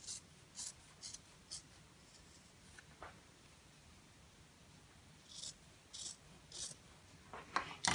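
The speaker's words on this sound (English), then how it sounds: "the next thing to do is cut these out" Scissors cut out fabric appliqué pieces, a quiet series of short crisp snips coming in irregular bursts close by, with faint rustling between them.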